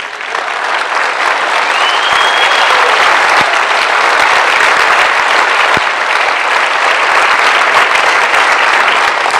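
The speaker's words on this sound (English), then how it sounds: "Give them a round of applause." Sustained, loud audience applause at a political Tea Party gathering in Ohio, dense steady clapping from a large crowd throughout, with a brief cheer or whistle near the start.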